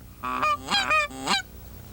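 Canada geese honk in several loud, close calls, three or four rising bursts in quick succession over a quiet prairie field during a goose hunt.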